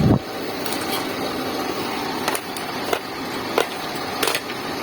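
A steady, loud whoosh comes from the cooling fan of a Redbo 200A welding machine running on the bench during service. A few sharp clicks and taps break in over the even hum.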